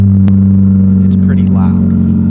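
Ford Escort engine running after a start-up, a loud, steady low idle drone held close by throughout, with a sharp knock near the start and faint background sounds over the top.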